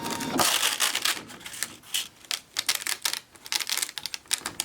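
A Brother ScanNCut machine's blade cuts through crepe paper, making dense, rapid crackling and ticking with brief pauses, close and fairly loud.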